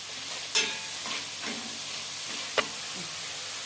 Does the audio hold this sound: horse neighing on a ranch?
no